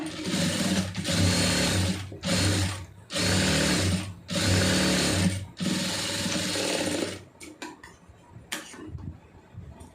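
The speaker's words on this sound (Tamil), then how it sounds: "முடிஞ்ச அளவுக்கு மூணு தையல் நாலு தையல் போட்டு கொடுத்துருங்க" An electric sewing machine stitches the lining of a blouse in roughly six loud, whirring bursts separated by short pauses. It then falls quiet apart from a few small clicks and handling noises.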